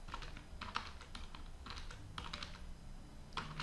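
Quick bursts of computer keyboard typing while numbers are entered into a statistics spreadsheet, clicking keys coming in short irregular clusters with brief pauses, close and clear with no talk.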